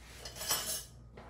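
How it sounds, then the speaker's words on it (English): Thick beet soup is whisked in a pot: a brief, quiet scrape and clink of the whisk against the metal, swelling once and then fading. "Let me whisk that a little bit."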